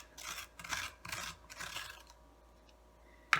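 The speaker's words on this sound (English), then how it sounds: "to use my ice cream scoop because it has these kind of sharp edges, and you can just really dig in there and get it all out" An ice cream scoop scrapes out the stringy flesh of cooked spaghetti squash in four or five soft, rhythmic rasping strokes, then pauses before a sharp knock at the end.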